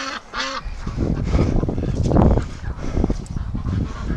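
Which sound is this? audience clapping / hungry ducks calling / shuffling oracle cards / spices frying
hungry ducks calling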